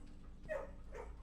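A dog in the video game Blue Prince gives two quick soft barks close by, brief and fairly quiet against a low background hum.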